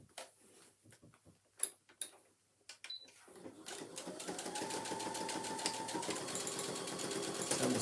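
A sewing machine stitches a handbag, first in a few slow, separate clicks and thumps. It then settles into a continuous rapid whirring run of stitches, close but fairly quiet.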